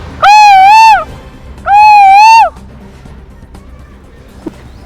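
A schoolboy imitates a koel's call with his voice: two long, rising-then-falling whistled hoots, loud and close, followed by a couple of seconds of quiet room tone.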